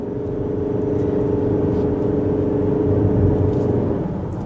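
A 2025 Mazda CX-50 Hybrid Premium Plus driven in power mode, with a steady mid-pitched engine drone and road rumble heard from inside the cabin that swells slightly near the end.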